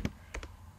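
A few quiet keystrokes on a computer keyboard while an email address is typed: one click, a short pause, then two quick taps close together.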